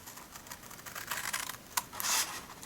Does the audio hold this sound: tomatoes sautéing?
no